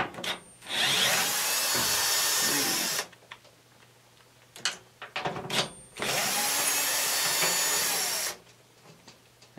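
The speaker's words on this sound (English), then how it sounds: "Let's see if they just come out with the notch tool." A power tool unscrews the main bolts from an NTI Trinity Ti100 boiler, in two loud, sustained whirring runs close by, separated by quieter clicks and handling noises.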